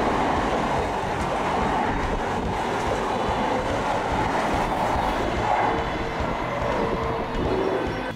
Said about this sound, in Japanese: 列車は鶴ヶ丘駅を通過、